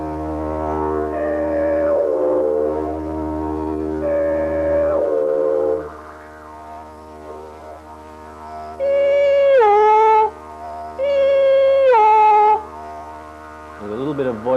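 A droning didgeridoo with wavering voiced calls layered on top, imitating a donkey's bray in repeated rising and falling hee-haw bursts.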